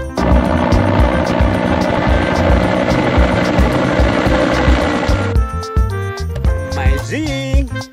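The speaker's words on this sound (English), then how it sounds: "helicopter!" A toy helicopter's rotor chops steadily and loudly, then the sound shifts to a mechanical whine with tonal toy-like sounds near the end.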